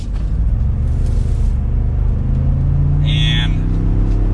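An empty 2022 Ford F-150 Tremor with the 3.5-liter EcoBoost engine pulls away under light throttle, a steady low engine rumble heard from inside the cab with a brief higher whine partway through.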